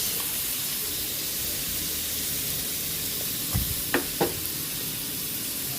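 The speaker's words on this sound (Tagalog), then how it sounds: "Nagisa na po natin yung ating chicken" Chicken sautés in a pot with a soft, constant sizzle, broken near the end by a few brief clinks of stirring.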